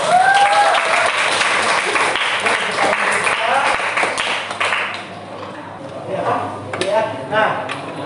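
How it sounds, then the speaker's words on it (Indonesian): A school class claps for several seconds, a lively scatter of hand claps that dips briefly and then picks up again, with children's voices chattering underneath. "tepuk tangan dulu untuk kita."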